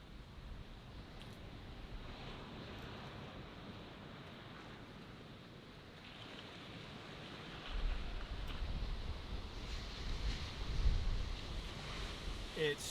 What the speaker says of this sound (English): The sound of the waves, stunning.